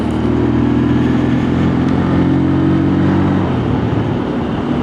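A WK Scrambler 125cc motorcycle on the move, its engine droning steadily with a low throbbing tone and wind rush, pitch shifting slightly as it gathers speed, heard alone without voices.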